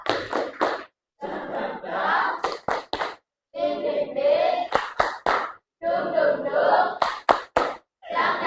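A group performs a rhythmic spirit clap, sharp synchronized hand claps in quick bursts alternating with chanted group shouting, close and lively with short pauses between rounds.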